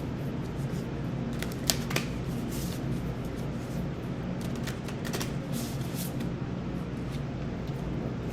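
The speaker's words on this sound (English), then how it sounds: "I think I'm just going to pull the cards here real quick" Oracle cards being shuffled and pulled from the deck: a soft, continuous papery rustle with a few brief crisp flicks, steady and close throughout.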